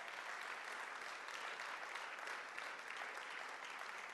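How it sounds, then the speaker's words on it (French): A church congregation applauds steadily throughout, a dense, even wash of clapping from many hands with no voices standing out. "Est-ce que vous voulez bien les applaudir?"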